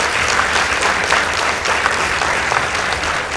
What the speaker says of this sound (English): Let's give NYERI High School a round of applause.